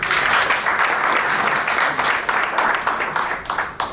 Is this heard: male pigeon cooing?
no